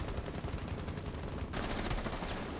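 Rapid automatic gunfire from a gun in Rainbow Six Siege, a fast continuous burst of shots that grows slightly louder and brighter halfway through, fairly faint overall.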